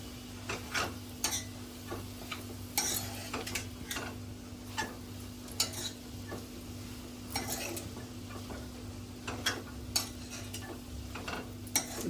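Fenugreek leaves and grated coconut are stirred in a pan, with repeated sharp spatula clicks and scrapes against the metal in an irregular rhythm over a low background hum and light sizzle.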